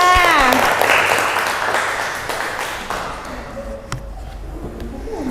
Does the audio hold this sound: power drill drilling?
no